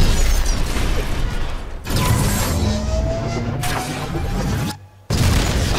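A Ronin titan explodes in Titanfall 2 over dense, loud mechanical battle noise. The roar drops away briefly near the end, then returns with a sudden booming burst.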